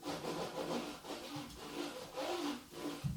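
A hand rubs across the textured plastic surface of an Xbox One X console, making quiet, close scratchy swishes in several rhythmic strokes.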